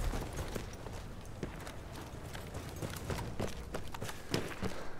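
Horse hooves clip-clop in the video game Battlefield 1 as a quick, continuous run of sharp hoofbeats, fairly close and steady for the whole stretch.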